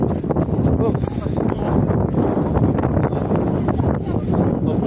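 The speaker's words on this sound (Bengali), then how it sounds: "এখানে বিভৎস ঠান্ডা হাওয়া দিচ্ছে, মানে পুরো ঝড়ের মতো হাওয়া দিচ্ছে।" Strong, cold, storm-like wind at Nathula Pass on the India–China border roars and buffets the microphone in a loud, continuous rumble.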